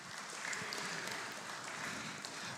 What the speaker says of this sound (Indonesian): tepuk tangan untuk Komisi 1 DPRD Provinsi Jawa Barat